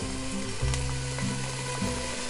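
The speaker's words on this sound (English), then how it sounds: "gently put the onions in and saute them until they're golden" Onions sautéing in olive oil in a pan, a loud, close and constant sizzle with occasional stirring over a low steady hum.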